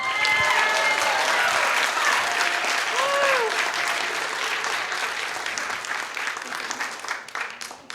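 Theater audience at a Q&A event bursts into steady, loud applause, a dense wash of many hands clapping that fades slightly toward the end, with a few voices faintly mixed in.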